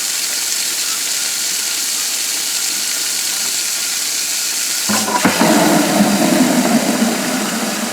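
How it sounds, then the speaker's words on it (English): Tap water from a faucet starts pouring into a bucket partway through, a broad steady rush that rises suddenly over a low background hum and continues to the end. "I'm going to turn the faucet on, put the bucket in, start the timer, and time it."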